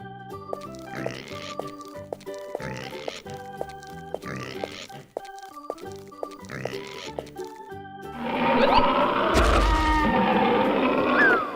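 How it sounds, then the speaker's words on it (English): Cartoon pig oinking and grunting in short repeated bursts over a bouncy children's music bed, ending in a louder, noisier stretch of jingle. "Pig."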